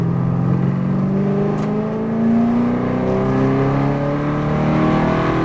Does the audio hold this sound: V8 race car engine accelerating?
yes